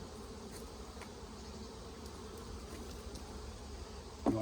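Honey bees buzz around a nectar-heavy hive in a soft, continuous hum, faint and steady, with a sudden louder knock at the very end.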